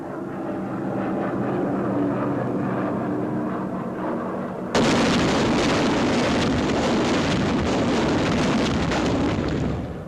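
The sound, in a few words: jellied gasoline incendiary bombs dropping and exploding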